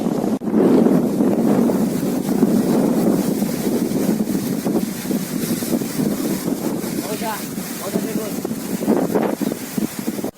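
Strong cyclone wind from Cyclone Jawad buffets the microphone in a steady, loud roar that lasts throughout, with gusty rumble and a voice faintly speaking under it.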